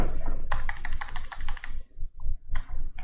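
Fast typing on a computer keyboard while clearing a search keyword in a web form, quick bursts of close clicks with short pauses between runs.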